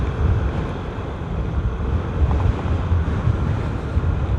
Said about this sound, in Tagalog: Lakas hangin dito.